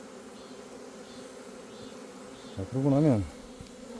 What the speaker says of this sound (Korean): 저게 벌이 지금 엄청나게 모여 있습니다.